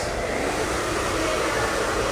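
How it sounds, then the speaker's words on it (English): A hair dryer blows loose cut hair off after a short layered bob haircut, a loud, steady close-up roar of rushing air with no voices. "Actually, you know, pass me the dryer"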